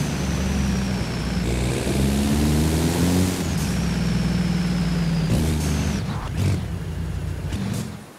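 A truck engine in the Forza Horizon 5 video game drones loudly and continuously, with humming harmonics that shift in pitch as it revs and cruises, a high whine above, and a brief clattering burst near the end.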